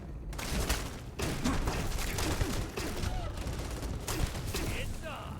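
A voice imitates bursts of automatic gunfire by mouth for a Starfield video game, with dense sputtering rattles in a continuous stream, loud and close, with brief gaps between bursts.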